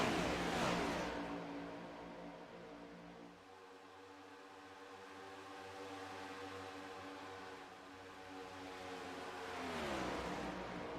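Stock cars race on an oval track, engines whining loudly as they sweep past near the start, settling into a steadier distant drone, then rising again as more cars roar by at the end.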